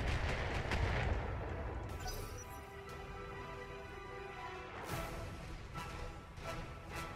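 Missile volley from a mech striking a turret in the BattleTech game, a dense rumbling barrage of blasts that is loudest early on, then a sustained roar with sharper impacts near the end.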